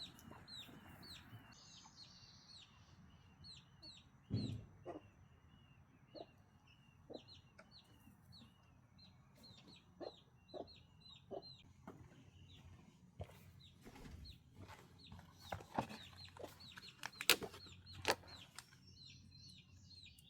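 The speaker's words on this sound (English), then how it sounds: "Chickens are waiting to go inside." Chickens cluck and squawk repeatedly in a busy flock, with scattered sharper calls and a few louder knocks, close by with no talking.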